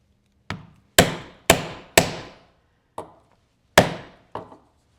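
Sharp, distinct mallet strikes drive a multi-tine leather chisel into 12-ounce belt leather on a workbench, seven close, solid thwacks in uneven rhythm, mostly about half a second apart, with no talking.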